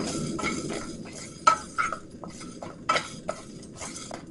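A spoon scrapes and clinks against a roasting pan as coriander seeds, black peppercorns and cumin dry-roast, giving light rustling with several sharp metallic taps close by.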